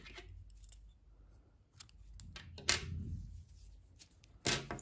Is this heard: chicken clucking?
no